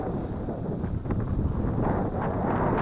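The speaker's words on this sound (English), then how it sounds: "Bringing it back down from all that wind." Strong wind buffets the microphone outdoors in San Diego while an MJX Bugs 3 Pro brushless GPS camera drone is brought down, a steady loud rumbling roar with gusty swells and no voices.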